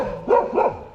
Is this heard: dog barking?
yes